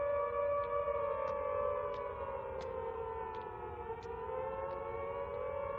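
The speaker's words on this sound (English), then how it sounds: "You could hear the sirens echoing off walls." Air raid sirens wail continuously over Coventry during the November 1940 Blitz, a steady droning tone that slowly sinks and rises again, sounding far off and echoing off walls, with no voices.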